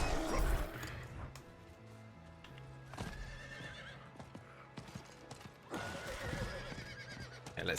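A horse whinnies loudly in the Diablo 4 video game, with clip-clopping hooves and game effects around it; the neigh rises and falls over a few seconds amid crashes and clatter.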